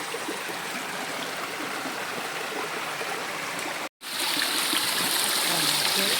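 Shallow water running over stones in a small Konkan stream by a little dam, a steady close trickling wash that holds throughout, with a brief cut midway.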